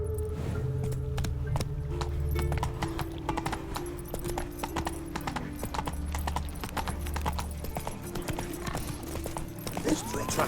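Roach, the horse in The Witcher 3: Wild Hunt, gallops with a rapid, continuous clatter of hooves over a low rumbling game soundscape, close and steady throughout, with a brief whinny-like snort early on.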